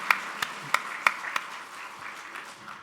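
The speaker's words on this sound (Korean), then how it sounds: "우리 부활의 주님께 영광의 박수 한번 올려드리겠습니다" Several sharp, spaced claps ring out in a church, about five distinct hand claps followed by a softer scattering of applause that fades, in a reverberant room.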